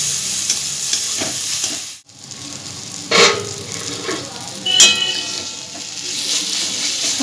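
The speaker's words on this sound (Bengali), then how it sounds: "এই মশলাটা আবারও আমি ভালো করে ভেজে নেবো" Spice masala of cumin powder, coriander powder and tomato fries with a steady close sizzle while a spoon stirs it, a brief hush near two seconds, then light scrapes and clinks of stirring over the continuing hiss.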